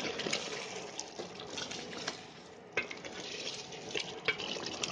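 Chicken being stirred and mixed in a pan while cooking, with soft scraping and wet clattering strokes over a low sizzle, repeated in irregular bursts at moderate distance.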